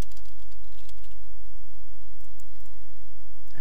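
Steady, close clicking of keys being typed on a computer keyboard, with a low hum running underneath.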